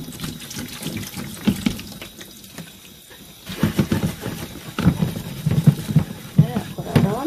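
Tap water runs and splashes as a rice cooker lid is rinsed under the faucet, the flow pausing and then resuming more strongly, with scrubbing and clattering against the sink close by.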